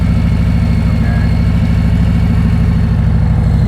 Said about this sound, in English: You heard the throttle go down?